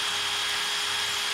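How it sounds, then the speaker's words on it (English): A small handheld power sander buffs a metal part on a homemade mini dually work truck dump bed, giving a steady, close whirring hum with a gritty, hissing rub for the whole short stretch. "All I did was use that little sander"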